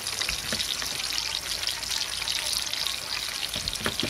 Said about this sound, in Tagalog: Ngayon, magpiprito tayo ng talong.